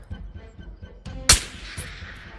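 A sniper rifle in the VR game Ghosts of Tabor fires one sharp, loud shot that rings out and decays, set against softer low thumps and faint background game noise.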